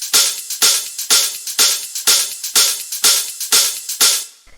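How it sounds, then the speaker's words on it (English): Tech house hi-hats in a Toolroom style pulse in a steady, even rhythm, about ten crisp bright hits with short airy tails, loud and alone before the pattern fades out at the end. "After that, we have the hi-hats, which sound like this."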